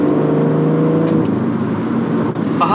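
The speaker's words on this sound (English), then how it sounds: "I'm really enjoying driving my M140i today on this awesome B road" BMW M140i driving hard along a countryside B road on a cold day, its engine droning loud and steady under acceleration with a rising, continuous roar throughout.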